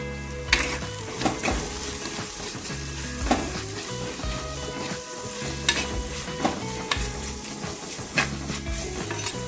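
Garlic paste and green chili sizzling and frying in a pan while being stirred, a steady crackle broken by repeated scraping stir strokes, close and moderately loud.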